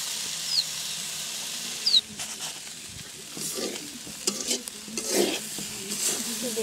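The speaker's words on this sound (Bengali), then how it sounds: "এভাবে নাড়া দিয়ে আবার ঢেকে দিচ্ছি।" Bitter gourd and potato pieces fry in a pan while a spatula stirs them, with soft sizzling broken by intermittent scraping strokes.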